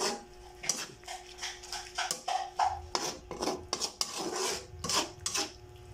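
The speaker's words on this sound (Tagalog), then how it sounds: "Halo-haluin natin" Spoon scraping and clanking against a pot while onion, garlic and ginger are stirred for a jackfruit coconut stew, a close run of repeated metallic clinks and scrapes with no talk.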